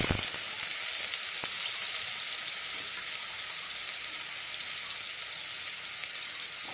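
Onion paste frying in hot oil in a wok, a steady bright sizzle that holds evenly from start to finish with a faint clink near the start, close and alone with no talk.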